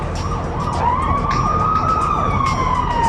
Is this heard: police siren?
yes